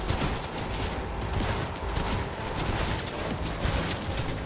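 Dense, continuous gunfire in the video game Cyberpunk 2077, a loud, busy stream of overlapping shots and impacts without a break.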